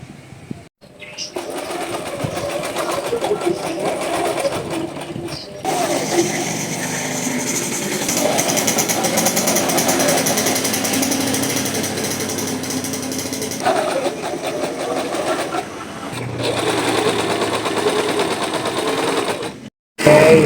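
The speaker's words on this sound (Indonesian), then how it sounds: "Ini mengobras bagian sampingnya ya teman-teman ya." An overlock sewing machine stitches the side seam of an oversized garment being altered, a loud rapid mechanical whirring that runs in long bursts with short stops, voices talking beneath it.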